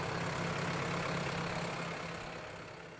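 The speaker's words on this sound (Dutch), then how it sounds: "Hier kun je dus nog steeds de boer met zijn trekker door de beek zien rijden." A farmer's tractor rumbles at a steady low idle-like drone while driving through a stream in the South Limburg countryside, the engine noise continuous and fading slightly toward the end.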